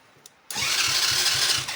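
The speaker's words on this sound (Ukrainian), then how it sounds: "давайте спробуємо без компресометра крутанути" 125cc ATV engine being cranked over to start, a short tick and then a loud, close, steady grinding whir with a rhythmic low chug that runs unbroken to the end.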